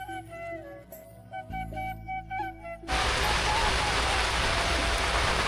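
Rain pours down steadily in a remote riverside char village, arriving as a sudden dense hiss partway through after a quieter stretch of tonal sounds at the start.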